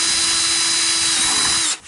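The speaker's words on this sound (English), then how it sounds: "we're just going to make a little drill hole kind of right there" A power drill whines steadily at high speed for nearly two seconds, drilling a hole in a plastic 5-gallon bucket, loud and close, then winds down at the end.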